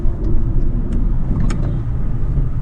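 Steady road traffic rumbles along Pacific Coast Highway in Newport Beach, a continuous low drone of passing cars with a few faint higher tones overhead and no talking.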